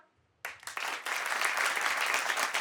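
Applause erupts from a comedy club audience after a moment of quiet, sharp scattered claps building quickly into steady, dense clapping.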